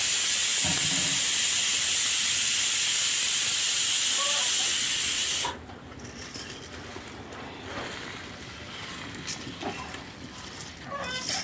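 A loud, steady hiss of boiling water and steam in a pot, ready for rice, rushes for about five seconds, then drops away to a quieter background with faint clatter.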